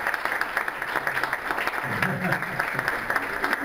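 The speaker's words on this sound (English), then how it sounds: "if you give her a round of applause" Applause for the mistress of ceremonies at a gala and awards event, a sustained crowd of clapping hands with crisp individual claps, and a voice murmuring underneath midway.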